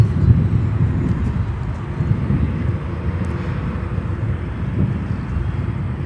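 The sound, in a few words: EVA Air Cargo plane landing at O'Hare, runway 10 Center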